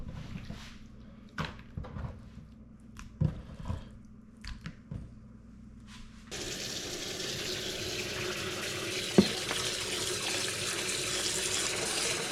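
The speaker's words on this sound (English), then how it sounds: "I'm just gonna rinse it off and let all that blood leach out with a little bit of salt water brine." Venison liver gets handled and rinsed in a bowl of salt water brine: a few wet squishes and splashes, then a tap runs in a steady, fairly close stream of water.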